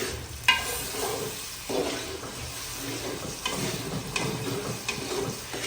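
Semolina and other ingredients fry in a pan for halwa, giving a steady soft sizzle with stirring scrapes and a few sharp clicks of a utensil against the pan, heard up close with no talk.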